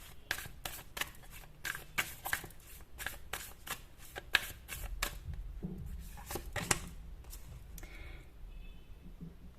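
Tarot cards being shuffled and drawn, a rapid series of crisp riffling bursts followed by a few softer slides and taps as a card is pulled, close and fairly quiet, with no talking.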